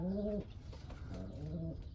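Sport pigeons, including Baku pigeons, coo nearby in a dovecote in soft, throaty calls, one burst at the start and another near the end, with faint rustling between.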